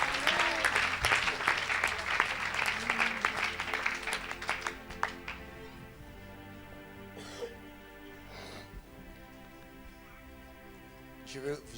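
A church congregation applauds, loud and dense clapping for about five seconds that thins into scattered claps and fades under a murmur of voices.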